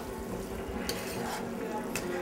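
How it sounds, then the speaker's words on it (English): A cinnamon, ginger and nutmeg spice mixture is stirred in a pot with the heat just turned off, giving a soft, continuous scraping and swishing with a couple of brief utensil clinks against the pot. "You stir it up."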